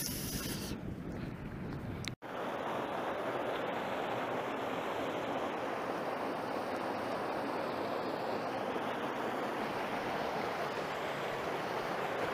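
A small river flowing steadily nearby, a loud, continuous broadband rush of water that carries on unbroken apart from one brief dropout, with no talk over it.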